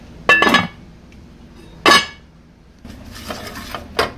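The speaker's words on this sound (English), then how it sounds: "I'll close the pot and let it all come to a boil" A pot lid comes down twice on a simmering pot of Nigerian ogbono soup with okra, making two loud, sharp metallic clanks, followed by a few lighter, softer clinks as it settles.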